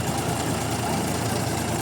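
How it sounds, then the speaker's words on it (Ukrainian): A DTZ 354U tractor engine runs steadily at about 1100 rpm while working with a pumpkin-threshing combine, giving a continuous low, even drone with no breaks. "Працює трактор на 1100 оборотах без напряга, йому не тяжко, не легко, він просто собі працює і все."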